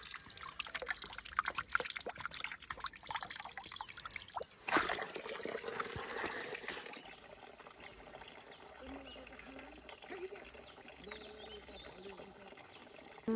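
Water trickles steadily from a village stone water spout, a close, continuous splashing stream with faint outdoor background sounds.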